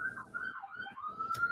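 Emergency vehicle siren wailing in New York City, a faint, distant wavering tone rising and falling over a quiet background, brief and without speech.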